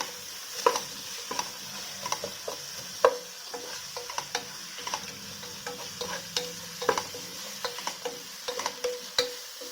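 Onions and chicken frying in a pot for Chennur dum biryani, a soft steady sizzle broken by repeated sharp spatula taps and scrapes at an irregular rhythm, close by, with no speech.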